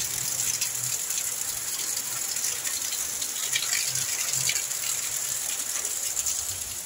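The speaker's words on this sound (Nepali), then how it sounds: "आज पानी ठुलो परेको छ, हेर्न सक्नुहुन्छ।" Heavy rain pouring down outdoors near a coconut palm, a steady dense hiss of falling water that holds evenly throughout, with faint bird calls scattered beneath it.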